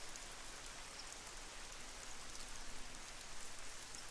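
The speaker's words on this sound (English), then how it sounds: "it's going to just absolutely start to downpour right now." A heavy rain downpour in the hunting game Call of the Wild: The Hunter hisses evenly and densely, a steady close wash of drops on surfaces with no voices over it.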